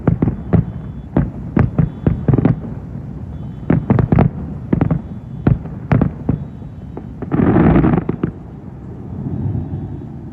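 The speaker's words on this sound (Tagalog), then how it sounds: "Nanonood lang po ng fireworks." Fireworks bursting during a night display, a string of sharp, loud booms and cracks in irregular bursts, some close together and some spaced apart, with a longer rumbling crackle toward the end.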